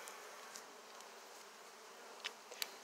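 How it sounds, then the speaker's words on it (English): Honey bees buzz in a soft, steady drone at an open hive, with a few louder bees passing close by near the end. "Got a lot of bees up on top."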